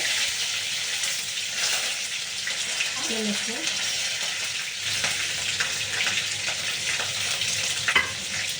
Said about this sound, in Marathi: हे चांगलं आपल्याला तेलामध्ये फ्राय करून घ्यायचं आहे